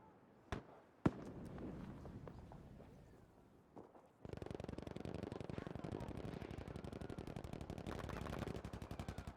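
Rapid automatic gunfire from a Battlefield V competitive match, starting with a few sharp isolated shots, then a sustained, loud stream of rattling bursts that runs continuously to the end.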